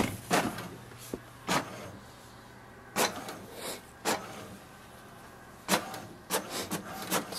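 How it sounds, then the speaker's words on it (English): An HP DeskJet 2752 inkjet printer prints a page, giving faint intermittent mechanical clicks and short whirring strokes of the print carriage and paper feed at irregular intervals over a quiet background. "Now release the button once you hear the sound as it's printing."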